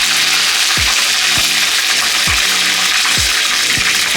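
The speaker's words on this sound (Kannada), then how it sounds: "ಈಗ ಇದಕ್ಕೆ 1-2 ಕಡ್ಡಿ ಕರಿಬೇವು ಹಾಕೋತಾ ಇದ್ದೀನಿ." Curry leaves sizzling in hot oil while chitranna is cooked, a steady loud crackling hiss with a few low knocks of a utensil against the pan, no voices.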